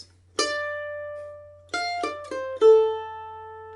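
Plucked mandolin notes play the opening bar of a waltz melody: one long ringing note, then a quick run of three notes leading into a final sustained, decaying note, close and alone.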